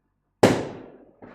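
A single loud firework bang outside at night, sharp and close, decaying into a rolling echo before a fainter second crack follows.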